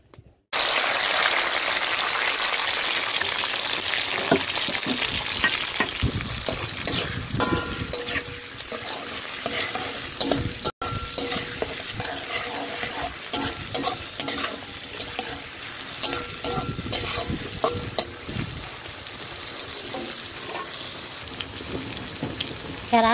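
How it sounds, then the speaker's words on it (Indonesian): Salted fish frying in hot oil with chili, shallots, garlic and tomato, a steady loud sizzle with stirring and scraping throughout, up close and without talk. "Sekarang kita ngegoreng asin"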